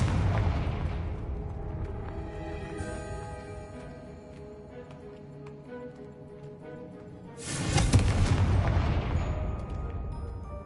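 A Confringo fire spell blasts in Hogwarts Legacy, landing as a sudden loud, broad burst with a crackling roar that rises sharply and then sustains, following a stretch of sustained tonal game ambience.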